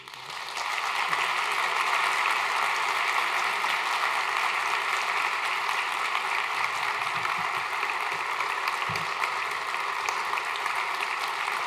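Sustained applause fills the hall at the Mohawk College installation ceremony for President Ron J. McKerlie, a loud, even roar of many hands clapping that holds steady throughout without any talk.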